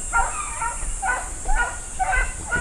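Hunting dogs on a wild boar and rabbit hunt give repeated yelping barks at a distance, in short bursts roughly every half second over a steady background hiss.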